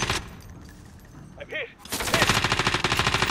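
A PKM machine gun hammers out a rapid, sustained burst in Call of Duty: Warzone, loud and close, after a quieter stretch of game noise with a brief tonal blip.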